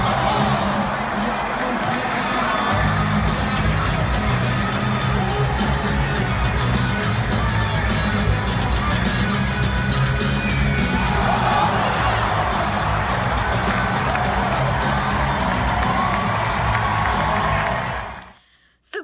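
A hockey arena crowd cheers, whoops and claps in a sustained standing ovation, a dense roar of voices and applause holding loud for most of the stretch before cutting off abruptly at the end.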